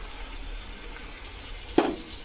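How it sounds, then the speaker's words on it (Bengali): Water poured into a pan of potatoes cooking in mustard sauce, a single short splash rising briefly above a quiet kitchen background. "এবারে আমি জলটা ঢেলে দেবো"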